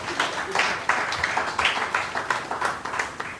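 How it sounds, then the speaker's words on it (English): Scattered, moderately loud clapping from a conference audience at the International Garifuna Conference 2020, with individual claps audible in an uneven rhythm throughout. "I think we should give another round of applause, please."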